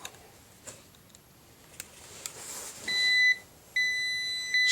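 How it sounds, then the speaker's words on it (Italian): Continuity buzzer on a KAIWEETS KM602 smart multimeter gives two sustained steady electronic beeps, each about a second long, after a few faint ticks and clicks, close and clear with no talking. "Suona perché è andato su cicalino"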